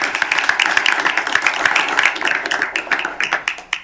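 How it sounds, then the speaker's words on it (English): Audience clapping at a school board meeting, a dense patter of many hands at steady moderate volume that thins out toward the end. "oh, yes, we can give them applause"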